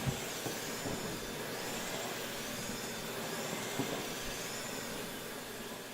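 A Dyson Big Ball Multifloor canister vacuum runs on a small, thick rug, producing a loud, steady broadband whoosh of suction and motor hiss that holds constant throughout, close up with no talking.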